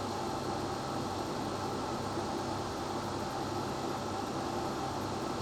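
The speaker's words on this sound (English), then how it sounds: "the aircon unit is set on the lowest it'll go, which is 16" A Lidl SilverCrest portable air conditioner set to its lowest 16-degree setting runs with a steady, even fan hum and airflow hiss, constant throughout at a moderate level with no talk.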